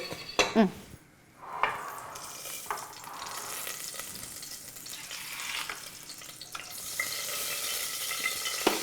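Mustard seeds crackle and sizzle in hot oil in a pan on a cooking show, a steady frying hiss that builds louder near the end, with a few sharp pan clinks early on.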